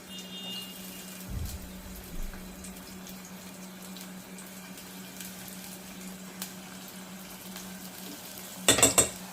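Two finely chopped onions fry in hot oil in a pan, making a faint, steady sizzle under a low hum, with a brief utensil scrape early on and a clatter of metal near the end.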